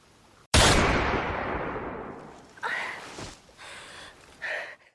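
Gunshots in a film scene where a woman is surrounded by gang members: one loud sharp blast with a long decaying tail, then a few fainter bursts, with no talk.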